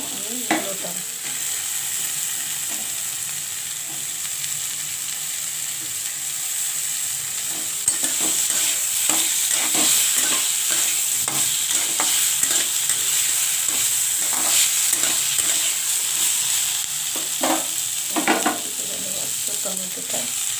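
Potato and radish fry in a pan with a steady hiss that grows louder midway, while repeated scraping and clattering stirs punctuate the sizzle over about twenty seconds, with no speech.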